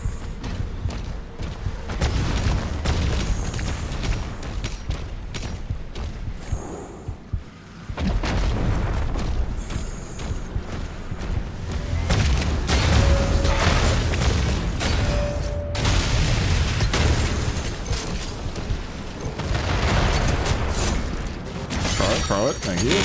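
Mines are shot and explode in Doom: The Dark Ages: a dense, continuous mix of booms, crashes and clattering machinery with heavy low rumble, loud throughout and barely pausing.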